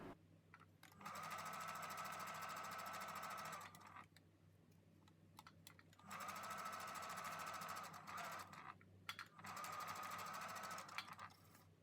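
A sewing machine stitches a 5/8-inch seam on culottes, running in three steady buzzing bursts of several seconds each, separated by short quiet pauses with light handling sounds.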